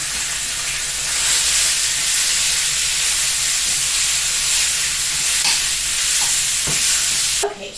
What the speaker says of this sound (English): So now I'm just going to take it and put it in this pan with some hot oil.